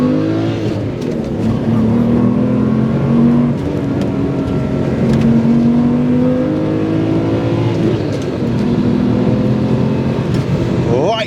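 A manual-swapped Subaru SVX's 3.3-litre flat-six revs hard and loud up toward 7,200 RPM, its pitch sweeping up and falling back in repeated climbs with gear changes, close and continuous throughout.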